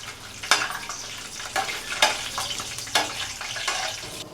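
Cashews fry in hot oil in a pan, a close, steady sizzle broken by several sharp scraping stirs of the spoon, with no voices.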